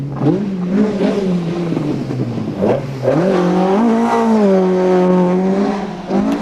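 Rally cars drifting at the 2002 Lurgan Park Rally: a loud, close engine revving and whining, its pitch rising and falling as the car drifts through opposite lock, with a brief lull before it surges again.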